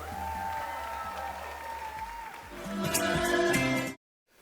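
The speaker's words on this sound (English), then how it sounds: "let's get one more big round of applause for your bride and groom" Applause at a wedding reception for the bride and groom, a steady crowd clapping that swells louder toward the end before cutting off abruptly, with a faint tonal hum underneath.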